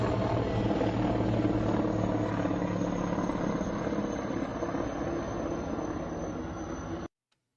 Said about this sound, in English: here's the video of the Mi-35 then flying somewhere around the checkpoint looking for the downed pilot